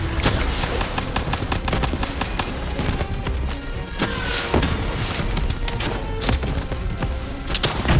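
Sustained automatic gunfire in the video game Black Ops 3, dense and loud throughout, with rapid overlapping shots, occasional heavier booms and continuous combat noise from start to finish.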